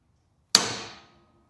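A single sharp metallic tap of a hammer on an 11/32 centering punch, marking a spot before drilling during a John Deere X700 light bar kit install; close, brief strike with a short ringing decay, no talk.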